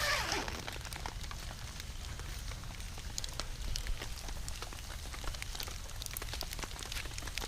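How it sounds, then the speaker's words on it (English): Steady rain patters on a tent during an all-day downpour, heard from inside as a soft, even hiss with faint scattered drop taps and no voices. "It's been raining all day, and it is still bone dry inside this tent."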